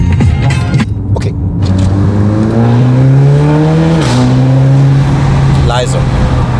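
Audi S3 sedan with a new downpipe revs its engine, the exhaust note climbing in a rising whine, holding high, then dropping and settling, loud and close with someone talking over it.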